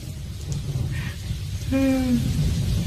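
Steady rain pours down with low rumbling thunder underneath, a continuous wet hiss that swells slightly toward the end, while a brief voice-like tone rises over it.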